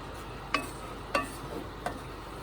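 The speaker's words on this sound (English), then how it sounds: "All right, so we'll give this a little stir" Beef base for jambalaya stirred in a pot, three distinct scraping strokes of a utensil at a steady pace over a soft, constant background hiss.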